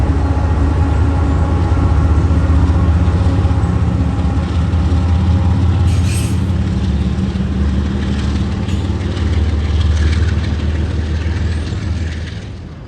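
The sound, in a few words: big train with DPU locomotives crossing Saluda Trestle bridge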